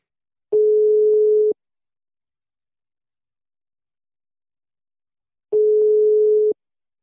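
Outgoing telephone call ringback tone, two identical one-second steady beeps spaced about five seconds apart with silence between.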